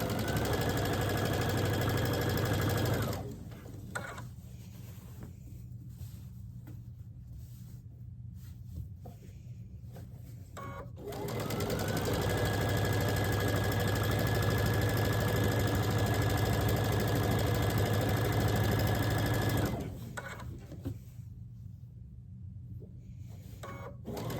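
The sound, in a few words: sewing machine stitching a log cabin quilt panel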